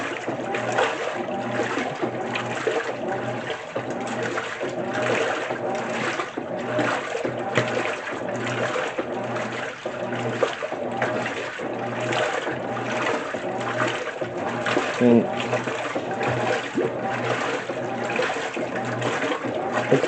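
A GE 2024 top-loading washing machine agitates soaked clothes in water, giving a steady churning and sloshing with regular rhythmic surges, close and continuous for the whole stretch.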